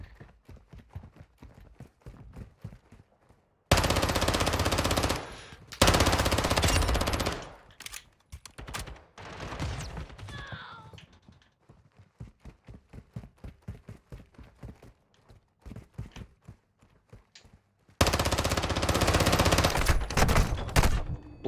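Rapid machine gun fire in a video game, loud broadband bursts of rattling shots in two long volleys with a later one, and lighter clicking between bursts.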